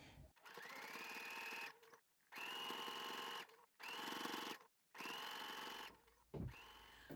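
A sewing machine runs in four steady bursts with brief stops between them, understitching a gabardine facing through the seam allowance layers, close and even, with a short knock at the end.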